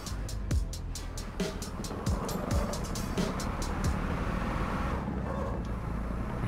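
Vehicle engine in the video game Parkour Arena War, a steady drone with repeated sharp clicks and shifting pitch as it drives and brakes.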